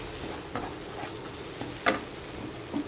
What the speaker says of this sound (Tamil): இந்த தக்காளியும் நல்லா வதங்கணும்.